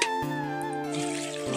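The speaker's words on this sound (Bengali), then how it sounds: "গাছের গোড়াটা একটু পানিটা দিয়ে দিই" Water poured onto the base of a mango tree after a storm, a steady close trickle and splash running unbroken for the whole short stretch with no talk over it.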